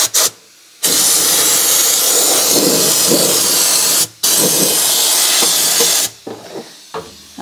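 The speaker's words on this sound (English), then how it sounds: "couldn't hurt anything to spray this stuff in there." A continuous pressurized hiss of rust-proofing sprayed through a hose into overlapping metal seams of a vehicle body, in long bursts with brief pauses between them, close by.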